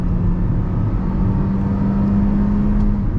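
A 2024 Kia Seltos with a 2-liter engine under full throttle, a steady loud engine drone and whir heard from inside the car, holding constant with a faint rising tone.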